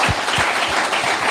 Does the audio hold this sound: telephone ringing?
no